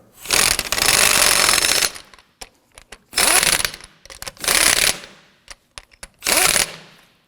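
An impact wrench snugs the lug nuts on the front wheel of a 2008–2011 Ford Focus, firing in four loud, close rattling bursts of about a second each, with short clicks and taps in the gaps.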